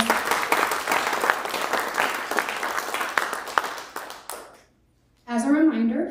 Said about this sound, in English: Can we give them a quick round of applause?